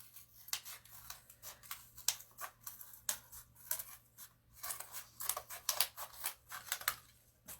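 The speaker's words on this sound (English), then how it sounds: "Now we're ready to cut our little heart." Scissors snip through paper while cutting out a small heart shape for rustic Valentine wall decor, with close, crisp cuts coming in irregular bursts and no talking.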